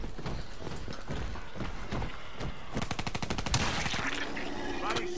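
Rapid gunfire from a first-person shooter video game: dense automatic bursts of shots, loud and close, running nearly continuously with a brief lull before a faster rattling stretch.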